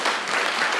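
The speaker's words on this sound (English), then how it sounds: "Oh, applause first." Brief burst of audience applause at a wine industry workshop in the Yarra Valley, a short wash of clapping under a second long at moderate level.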